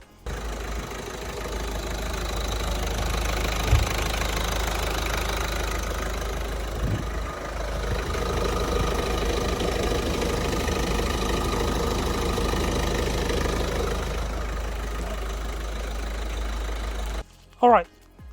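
Ford Focus mk3 diesel engine running at a steady idle after a service, a constant low rumbling drone with faint knocking, a brief clunk midway, then the sound cuts off near the end.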